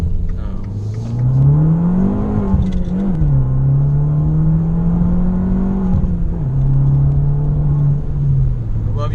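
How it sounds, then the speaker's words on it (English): A Fiat 500 Abarth revs while driving, its engine note rising and falling through the gears with a few brief pops of backfire, loud and close throughout. "You get a little bit of backfire from it."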